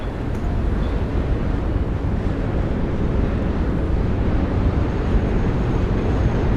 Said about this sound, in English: There's a train right now.